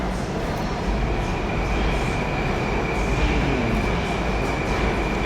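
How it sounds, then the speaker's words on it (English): A train car rolls past in the background in a Soviet-era tunnel beneath Moscow, making a steady, continuous rail rumble with a faint thin squeal running through it. "the train car going by in the background"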